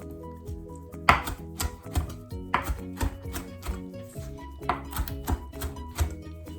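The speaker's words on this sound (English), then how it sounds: "I usually go across and then I run the knife back and forth." A knife chops kale finely on a cutting board in quick, steady, rhythmic thuds, close and clear, with no talking.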